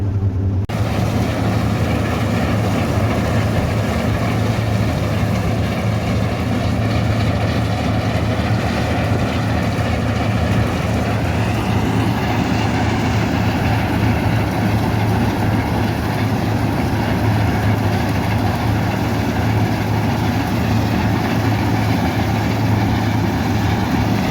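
A combine harvester runs steadily while harvesting soybeans in a field, giving a loud, continuous engine and machinery drone with a low hum that holds through the whole stretch and no talk over it.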